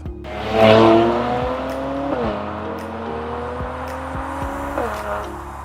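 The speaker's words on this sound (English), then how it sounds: "How about the AMG Performance exhaust? This one's a must-have." A 400 bhp 2019 Mercedes-AMG C43 with the AMG Performance exhaust revs loudly with rising and falling pitch, the exhaust roaring through gear changes, close and continuous.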